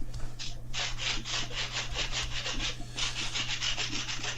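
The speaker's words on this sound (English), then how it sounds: "while you're sanding" Hand sanding on a model airplane, rapid rhythmic back-and-forth rubbing strokes of abrasive on wood, close and clear, with a short pause midway before the strokes resume over a low steady hum.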